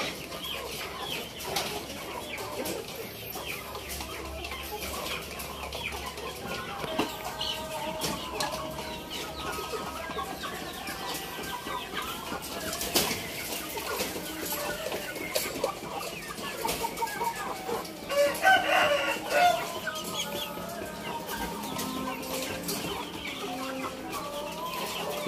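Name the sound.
Indio Gigante chickens clucking and crowing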